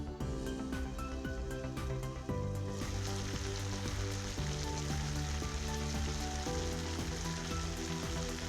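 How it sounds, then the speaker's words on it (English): Brinjals and potatoes sautéing in a pan, a dense continuous sizzle with crackling pops over a low hum, steady and close throughout. "Then I add the 4 brinjals to saute them along with the 2 potatoes"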